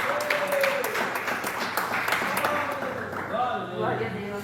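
Congregation applause at a church campaign service, with steady broadband clapping throughout and a voice speaking over it.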